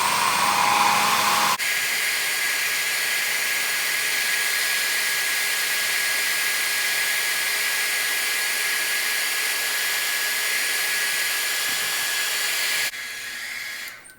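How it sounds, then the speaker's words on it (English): A handheld blow dryer runs steadily at close range, a loud broad hissing whoosh that starts abruptly after a moment and cuts down near the end as it is switched off, aimed at erasable gel pen ink. "Watch what happens when I apply heat with this blow dryer."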